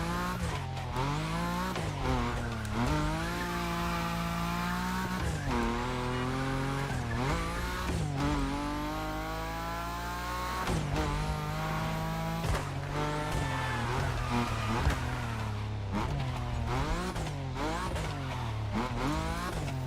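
A Nissan Skyline GT-R R34 in The Crew Motorfest revs hard and sweeps up through the gears with repeated rising engine whines and shifts, loud and up close, with occasional tire squeal.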